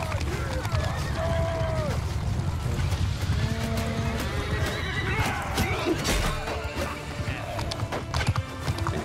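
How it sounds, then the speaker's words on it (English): A horse in the video game Mount & Blade II: Bannerlord whinnies loudly amid hoofbeats and background commotion, with a voice speaking over parts of it. "Horse."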